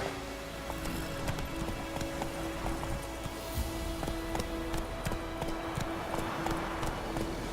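Roach, a horse in The Witcher 3, gallops with steady repeated clip-clop hoofbeats close up over a continuous ambient hum and faint background sounds, no talking.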